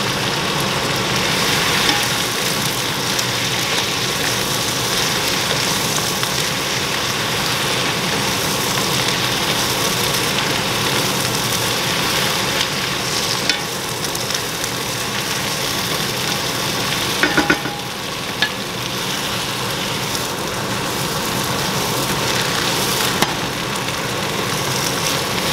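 Bok choy being stir-fried with tofu mince and black bean sauce in a hot pan, a steady, continuous sizzle and crackle running throughout with a few faint clinks of a utensil against the pan.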